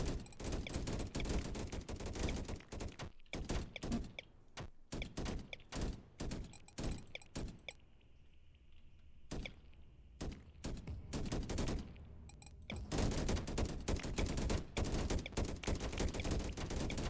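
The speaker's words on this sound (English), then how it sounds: "Come on, gun turrets." Automatic gun turrets in the swarm-survival strategy game Deep Amon fire repeated loud bursts of rapid shots, clustered in heavy volleys with a brief quieter lull in the middle before the barrage resumes.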